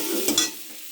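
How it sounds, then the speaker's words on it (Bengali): Coriander leaves being stirred into a fish curry masala with potatoes, a quick close scrape of the spoon over a brief hiss of sizzling. "বন্ধুরা দেখতে পাচ্ছেন ধনেপাতাটা দিয়ে একটু কষে নেব"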